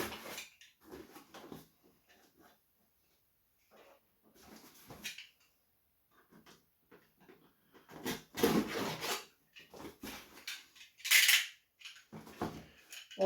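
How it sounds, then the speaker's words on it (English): A blade scraping and slicing through plastic toy packaging for a Mighty Morphin Power Rangers Lightning Collection Black Ninja Ranger figure, cut with a Stanley knife in short, irregular close-up rasps and crinkles separated by pauses. "if you are opening stuff, make sure you use a Stanley knife or a safety blade, and then cut away from yourself always"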